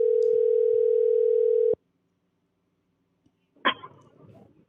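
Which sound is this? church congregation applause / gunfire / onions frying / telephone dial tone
telephone dial tone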